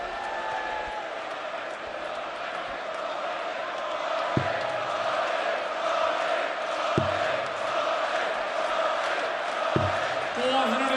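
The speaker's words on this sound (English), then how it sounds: "Crowd in boisterous form in the closing stages of this match." Boisterous crowd during the closing stages of the 2017 PDC UK Open darts final, a continuous roar of chanting and cheering from a large arena audience, with a few sharp thuds rising above the steady din.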